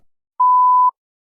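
A single clean electronic test-prompt beep sounds, a steady mid-pitched tone lasting about half a second against silence.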